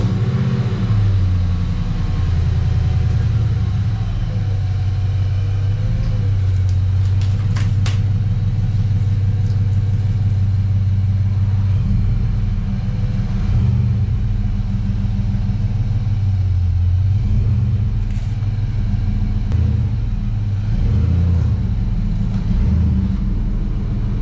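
A Nissan Patrol Y62 fitted with a new roof rack drives slowly out of a garage, its engine giving a steady, close, low rumble that holds evenly throughout with no voices.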